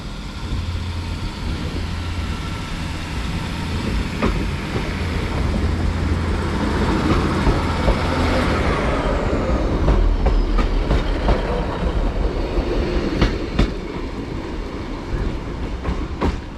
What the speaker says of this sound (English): departing out now is the 12:30 Northern service to Haitian Port, starting here at Lancaster